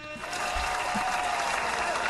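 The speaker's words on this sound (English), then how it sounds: "You can give me a round of applause" A steady wash of clapping and crowd noise, an audience applauding continuously at a moderate distance.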